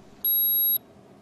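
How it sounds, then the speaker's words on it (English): A single high-pitched electronic beep from a coating thickness gauge base unit confirming its probe connection rings clearly for about half a second over quiet background hiss, then stops. "On the base unit, the probe icon will stop flashing and the unit will beep."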